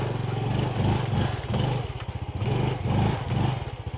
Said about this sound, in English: I don't want the motorcycle to get stuck because it's not very powerful.